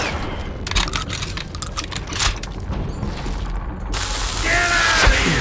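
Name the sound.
gunfire in Call of Juarez Gunslinger video game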